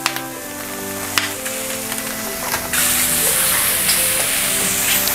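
Butter sizzles in a pan while a mushroom-stuffed chicken roasts. The hiss is steady and close, and it swells into a louder, brighter frying spray partway through.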